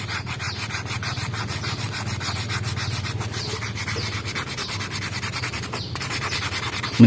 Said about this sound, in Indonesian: kita gosok dengan amplas yang agak halus